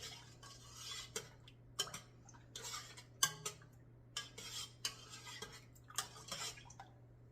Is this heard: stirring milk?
yes